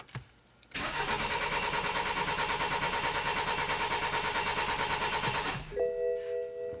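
A BMW X3 engine cranks over with a steady, even starter rhythm for about five seconds, loud and close, then stops and leaves a quiet tonal hum.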